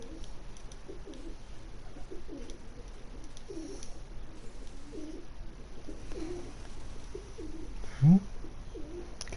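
Pigeons coo outside a balcony in repeated soft, low rounded calls, fairly distant and faint over steady indoor room hum, with a single sharp brief noise near the end.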